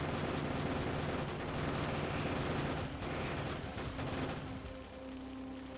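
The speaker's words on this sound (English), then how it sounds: "Let the turrets do the work." Turrets fire steadily in Factorio, a continuous dense rattle of rapid gunfire with low booming impacts, constant and fairly loud throughout, with no speech.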